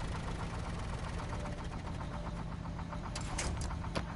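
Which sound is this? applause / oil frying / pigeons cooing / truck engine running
truck engine running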